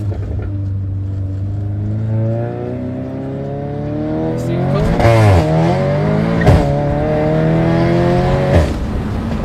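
An Audi car engine revs steadily, its pitch rising and falling, punctuated by several loud crackling exhaust pops; a brief voice is heard underneath.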